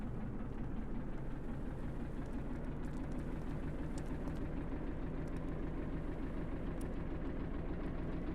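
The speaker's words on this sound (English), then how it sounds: "Start the engine." A boat engine runs in the video game Stormworks, giving a steady low droning rumble with a dense vibrating texture that holds at a constant level throughout, with no voices over it.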